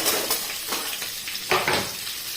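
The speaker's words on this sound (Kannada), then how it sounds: "ಈರುಳ್ಳಿ ಮತ್ತು ಮೆಣಸು ಫ್ರೈ ಆಗುವಾಗ" Green chilies and onions sizzling as they fry in a pan, with steady crackling and a few clinks and scrapes of a spoon stirring against the metal, close and loud, no voices.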